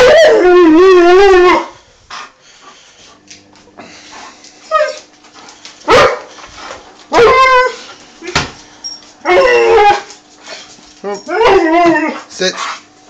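Alaskan Malamute howling, whining and yipping eagerly before a walk, loud and close with wavering drawn-out howls and short bursts, a person speaking between them.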